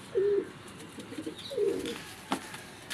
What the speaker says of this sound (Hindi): ऐसा शानदार कबूतर कम ही देखने को मिलता है